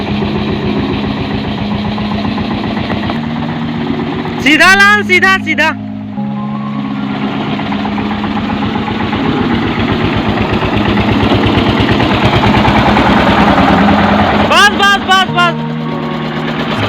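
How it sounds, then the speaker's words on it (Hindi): A tractor engine idles steadily with a low, continuous rumble. Voices and a brief horn-like squeal break in over it. "अभी ट्रैक्टर लाकर खड़ा किया है, तो हम खाली करते हैं ट्रैक्टर को।"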